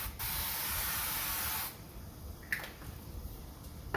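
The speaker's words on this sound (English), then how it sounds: "my baking dish, I'm just going to give it a quick spray with some avocado oil" A single sustained hiss of avocado oil spray onto a baking dish lasting about a second and a half, followed by quiet with a few small clicks and taps.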